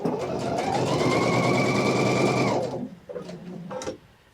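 A Pfaff Icon or Expression sewing machine stitches fabric at a steady, fast whir that runs for a few seconds, then slows and stops with a couple of mechanical clicks.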